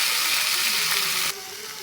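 Shredded cabbage frying in oil left from roasting pepper and cumin, a loud close hiss of sizzling that drops abruptly to a softer simmer near the end.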